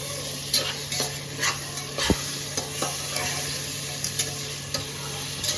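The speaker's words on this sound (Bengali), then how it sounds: "মশলাগুলো ভাজা হয়ে গেছে" Spices fry with ginger garlic paste in a pan, a steady close sizzle punctuated by regular scraping strokes of a spatula stirring the mixture, with no talking.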